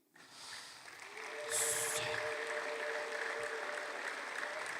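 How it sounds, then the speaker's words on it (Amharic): A church congregation clapping during a sermon, the applause swelling quickly and holding as a steady, moderately distant patter of many hands. "ስለዚህ ቃል አጨብጭቡ።"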